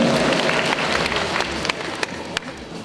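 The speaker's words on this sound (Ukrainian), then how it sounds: "А де ж ваші аплодисменты, друзі?" Audience applause at the Miss Princess of Ukraine 2014 beauty pageant: a steady wash of clapping from a hall full of spectators, with a few sharper claps standing out as it carries on throughout.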